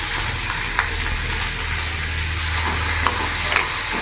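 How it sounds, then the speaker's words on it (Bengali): Chopped onions, two large ones, frying in hot oil with whole garam masala and cumin, stirred steadily; a loud, continuous sizzle with occasional scraping clicks from the spoon, no talk. "এরই মধ্যে আমি এখানে বড় সাইজের দুটো কুচনো পেঁয়াজ দিয়ে দিলাম"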